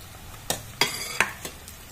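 Onions fry in a pan with a low, steady sizzle, broken by several sharp taps and scrapes of a spatula against the metal.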